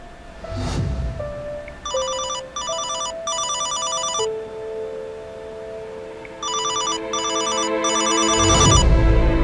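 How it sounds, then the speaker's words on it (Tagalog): A mobile phone rings with a melodic electronic ringtone, two series of three rapid trilling bursts separated by a pause, loud and close, with soft background music beneath. "Cellphone ba yun ni Mahal?"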